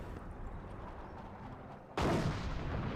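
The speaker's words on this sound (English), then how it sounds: "M180 gun hitting the Panzer IV." In the game Company of Heroes, a gun fires at a Panzer IV tank: a dense rumbling battle din suddenly jumps into a loud, harsh blast and sustained roar of gunfire, with no voices.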